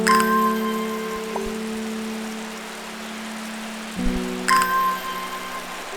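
Steady rain falling outside in the game Strange Horticulture, a soft continuous patter under chiming bell-like tones that ring and fade twice, no talk.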